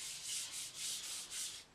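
Sandpaper rubbing back and forth over a carbon fiber exhaust from a 1995 Ducati 900SS, a steady rhythmic hiss in about four close strokes with no talk.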